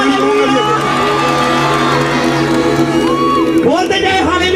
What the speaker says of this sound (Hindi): तालियों के साथ बोले हालेलुया